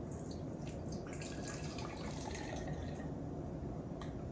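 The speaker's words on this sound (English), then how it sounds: "we're going to pour this 50 milliliters into my soda can here" Fifty millilitres of water poured into a soda can calorimeter during a lab: a steady, even rush of liquid filling the can, continuous and close throughout.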